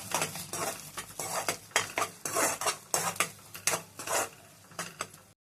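A spoon scrapes and clatters repeatedly against a pan as onions and garlic fry in oil for a ridged gourd curry, with rhythmic metallic stirring strokes close up and no talk.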